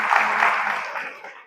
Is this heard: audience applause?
yes